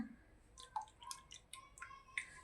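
Homemade skin-brightening oil is strained through a filter, giving quiet, scattered drips and small wet plops close by in an otherwise hushed room.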